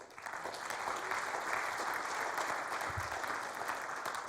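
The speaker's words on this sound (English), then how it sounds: "So I think that deserves a round of applause." A church congregation gives a sustained round of applause, a soft, even patter of many hands heard from a moderate distance with no break.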